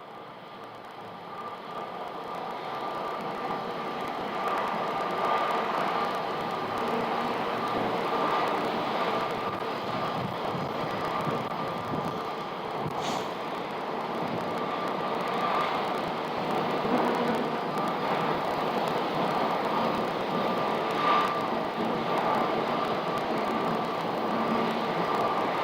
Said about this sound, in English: that new Frontier flight is going to pull in right in front of them here